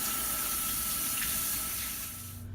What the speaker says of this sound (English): So just get some soap and wash underneath your nails and like in between your fingers and stuff for about 20 seconds or so with warm water